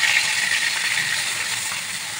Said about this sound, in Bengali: তেল গরম হয়ে গেছে, এবার মাছগুলো তেলে ছেড়ে দেবো।